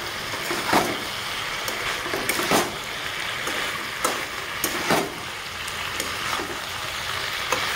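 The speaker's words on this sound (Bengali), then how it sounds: "তো 1 মিনিটের মতো ডালি বড়ির সাথে আমি কষিয়ে নিয়েছি" Vegetables and fried dal bori sizzle in a pan with spices and a little sugar, a steady close frying hiss broken by several sharp scrapes and clacks of stirring.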